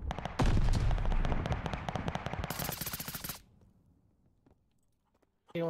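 Video game firefight with a loud burst of rapid machine-gun fire and blasts from a grenade, dense and close for about three seconds, then dropping to a quiet lull before another sharp burst at the end.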